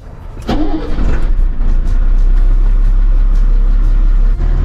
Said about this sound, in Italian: proviamo ad accendere il motore